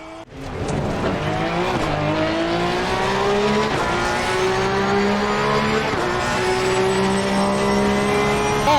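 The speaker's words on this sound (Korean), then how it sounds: "포르쉐 992의 날카로운 사운드 특징을 좀 더 잘 살린 건 알팩터2가 실제와 좀 더 비슷한 사운드를 들려주는데" A Porsche 992 GT3 engine in the racing game rFactor 2 wails loudly and continuously, its sharp pitch climbing through gears with brief dips at each shift and a touch of tire squeal, no voices over it.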